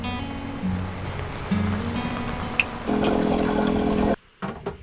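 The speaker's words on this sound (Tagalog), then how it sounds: "ang naghahalong tunog ng alon at ulan ay parang heli ang resulta" Rain falls alongside sea waves on a beach, a steady watery wash with surging swells that grows louder partway through before cutting off abruptly near the end.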